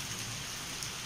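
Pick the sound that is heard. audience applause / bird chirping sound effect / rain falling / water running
rain falling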